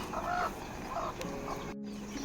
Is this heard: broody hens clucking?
yes